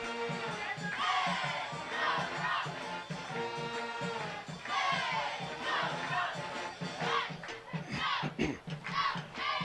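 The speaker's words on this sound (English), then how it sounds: "Pep band getting the crowd fired up." A football crowd at a night game cheers and shouts, fired up by a pep band, with a dense roar of voices and children yelling rising in bursts throughout, heard from within the stands.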